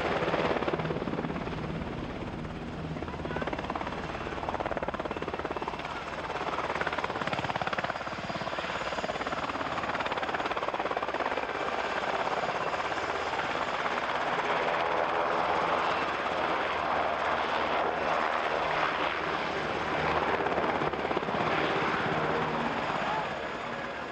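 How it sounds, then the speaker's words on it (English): An HH-60 Pave Hawk rescue helicopter flying at a demonstration, its rotor and engine roar sustained and fairly loud throughout, with a public-address voice talking over it. "Helicopter saying hello to y'all."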